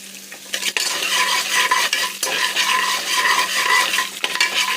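Green chillies and peanuts sautéing with lentils in a pan for tamarind rice: a loud, close sizzle with repeated stirring scrapes and a few sharp utensil knocks against the pan.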